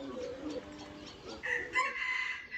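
Chickens on a farm clucking and crowing close by, a run of calls that gets louder in the second half, with some voices in the background.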